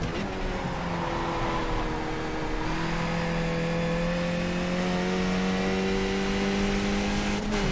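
Skip Barber race car engine in the iRacing video game at Oran Park, a loud, continuous whining drone with rising and shifting pitch as the car accelerates through gears, heard alone without talk.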